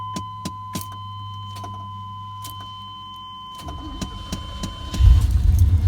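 A 1991 Chevrolet Scottsdale pickup with a faulty starter cranks and then catches, a few sharp clicks and a steady electrical whine giving way to a low rumbling engine start near the end, fairly close.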